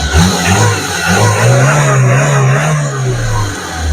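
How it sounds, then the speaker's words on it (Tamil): Close, loud, continuous engine note from an LPG-fuelled Maruti Zen LX, rising and falling in pitch through a few mild revs over a steady running drone. "இன்ஜின் சவுண்ட் பாத்துக்குங்க."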